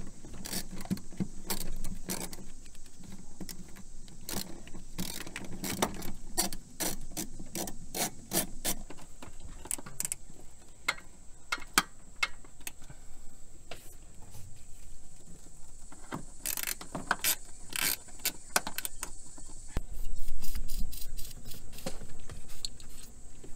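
A ratcheting wrench turns the number 10 nuts holding the steering boot to the firewall of a 2007-2013 Chevrolet Silverado, with rapid runs of clicking ticks, pauses between bursts and faint metallic rubbing, close up.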